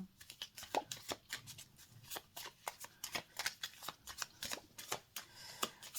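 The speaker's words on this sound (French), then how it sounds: "On va faire la petite coupure tradie parce que ces petits jeux-là, comme le Lenormand, j'aime bien faire la petite coupure" Lenormand cards are shuffled and cut by hand in a quick run of crisp, close riffling slaps and flicks, with no one speaking.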